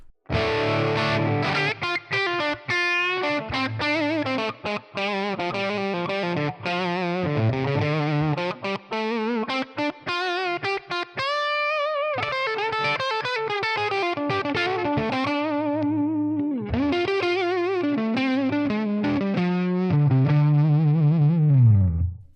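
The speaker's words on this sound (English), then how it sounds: "Add some reverb." A distorted electric guitar runs through a Tonex One amp model with reverb added, playing a fluid melodic lead of bends and sustained notes, loud and alone, with a brief gap midway and a long held note closing.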